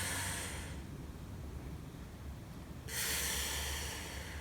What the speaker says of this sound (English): Let's all take a nice big breath together.